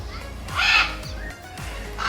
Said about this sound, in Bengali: ওই যে দেখা যাচ্ছে কালো কাকাতুয়া